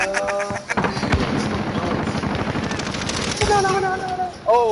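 Rapid automatic gunfire rattles through a Call of Duty team deathmatch, dense overlapping bursts of shots fired close and loud, with voices talking over the firing.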